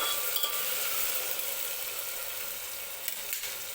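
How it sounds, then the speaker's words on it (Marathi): Tomatoes and spices sizzle steadily in hot oil for masala rice, the frying hiss constant and close with faint scrapes of stirring now and then. "टोमॅटो व्यवस्थित भाजतोय, मध्ये मध्ये हलवत राहायचं आहे आपल्याला"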